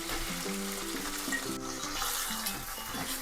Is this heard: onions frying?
yes